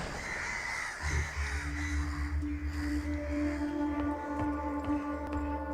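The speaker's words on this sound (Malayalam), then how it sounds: "കാക്ക நிறைய வருதுல" Several crows caw repeatedly at moderate distance, their harsh calls overlapping in a steady chorus against a low background hum, with no speech.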